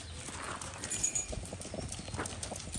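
Hooves of a gaited horse cantering during a training session, a steady clip-clop rhythm of muffled footfalls close by over a continuous outdoor background.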